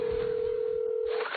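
A steady, loud, single-pitched telephone tone hums on through a phone call, holding for over a second before cutting off near the end, with no voices during it.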